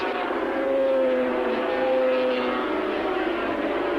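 Racing motorcycles at Calder in 1985 pass by, with an Armstrong running a 250cc disc-valve Rotax engine leading three Hondas. Their engines make a loud, sustained high-pitched howl that swells slightly as they go by.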